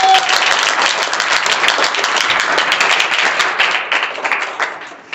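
A classroom full of people clapping together, loud and steady, dense applause that holds for several seconds before thinning out at the end.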